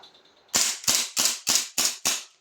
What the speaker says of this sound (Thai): ใส่ยิงได้นะครับผม นะครับยิงไปเลยฮะแรงมาก